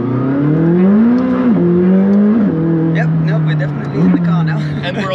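A McLaren 600LT sports car engine hums and revs from inside the cabin on a Swiss road, pitch stepping up and dipping with gear changes, loud and close, with people talking over it.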